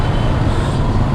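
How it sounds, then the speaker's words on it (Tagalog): Steady road traffic rumble from cars and trucks on a busy street, a continuous low droning wash with no distinct passes in this brief stretch. "Yung traffic dito"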